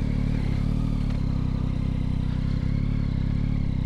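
A 2022 Yamaha XSR900 motorcycle engine pulling hard under acceleration, a loud, dense, constant drone heard up close with steady pitch and a slight clatter throughout.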